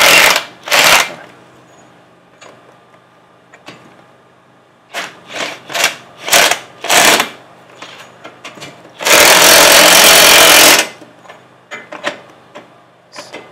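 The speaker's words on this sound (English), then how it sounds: "tighten these down with a drill" A power drill tightening lug nuts whirs in short bursts with pauses between them, then one longer steady run, close and loud, with clicks and clanks in between.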